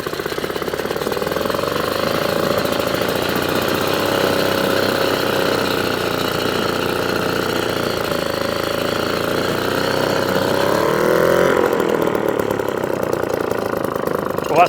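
A vintage Atco kick-start lawn mower with a Villiers Midget engine runs steadily and loudly up close, a continuous buzzing drone whose revs waver slightly before shifting pitch near the end.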